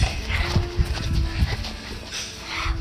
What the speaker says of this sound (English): But first, let's say hi to my dog before we go.